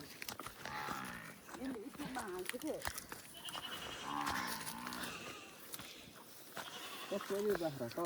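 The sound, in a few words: goats bleating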